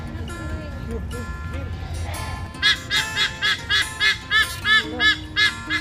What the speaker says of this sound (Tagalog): Umiyak yung bird